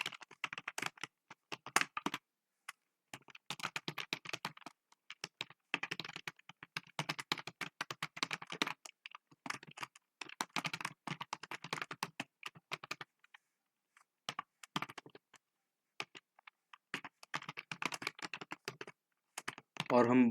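Bursts of rapid key taps on a computer keyboard while C++ code is entered, coming in runs with short pauses between them, fairly close and clear, with no voices heard.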